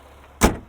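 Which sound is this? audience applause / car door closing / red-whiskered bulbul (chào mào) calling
car door closing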